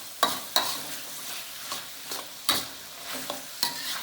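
Chengdu chicken tossed with celery in a hot pan: sharp, spaced utensil knocks and scrapes recur about every half second over a faint sizzle, close but fairly quiet, with no voices.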